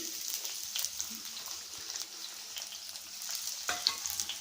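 Onion pieces sizzle in hot oil in a pan, a continuous crackling hiss with light popping and a couple of sharper spatters, close and fairly quiet, with no voices.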